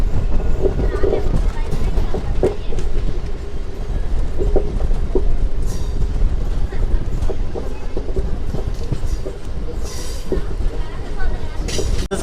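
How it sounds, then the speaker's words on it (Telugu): A MEMU passenger train runs on after leaving Moula Ali, giving a loud, continuous rumble of wheels and carriage noise with scattered clatter and knocks, heard from on board. "మన ట్రైన్ వచ్చేసి మౌలాలి నుంచి అయితే బయలుదేరిపోయింది."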